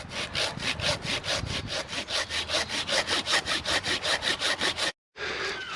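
A hand saw cuts through wood at a woodland campsite in steady, rhythmic back-and-forth strokes, loud and close, stopping briefly before one last rasp.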